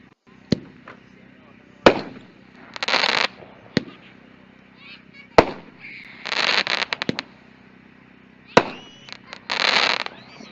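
Consumer fireworks from a store demo: purple, green and red mines and a green globe shell, heard as sharp launch thumps followed by dense crackling bursts, repeating three times over ten seconds at moderate distance, with faint voices in the background.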